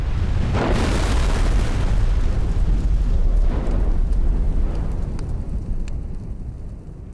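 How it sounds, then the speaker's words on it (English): Massive underground explosion as a wartime mine charge detonates inside tunnel galleries, a loud sustained deep roar and rumble with crackling bursts that slowly fades away. "the Germans themselves blew, and it took his charge with their own explosion, a massive blast"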